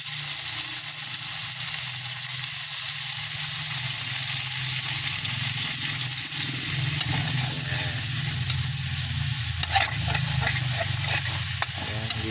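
Steady loud sizzling and frying of catfish with bitter gourd and tomato in a hot wok, with stirring scrapes and occasional clatters near the end, continuous and close with no talking.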